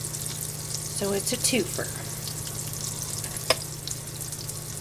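Cod fillets searing in a pan of butter and olive oil give a steady soft sizzle and hiss, with a brief clink and a few words of speech over it.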